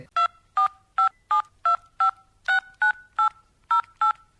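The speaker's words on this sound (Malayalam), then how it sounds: "ഞാൻ ഒരാളെ ഫോൺ ചെയ്യട്ടെ" A telephone keypad sends eleven crisp DTMF tones in a steady rhythm as a number is dialed, each short beep loud and clear against near silence.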